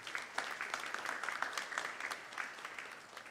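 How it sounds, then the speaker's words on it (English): Faint applause from a crowd at a Krishna temple Sunday service, steady scattered clapping for a few seconds, heard from a distance. "Let's give them a round of applause."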